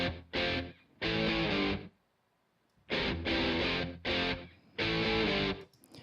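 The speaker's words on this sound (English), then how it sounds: "this intro guitar part actually came from the live guitar tracks right here." Unprocessed live guitar intro part from a band recording, played as bursts of loud, full-range guitar chords separated by short gaps and one longer silence, with no voices.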